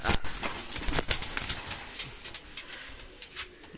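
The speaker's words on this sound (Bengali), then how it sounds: "এক পেয়ার গলায় লাল কবুতর নিয়ে আসলাম রানিং কবুতর" Red-necked Pakistani high-flyer pigeons coo softly among rustling and sharp clicks, with occasional wing flutters close by.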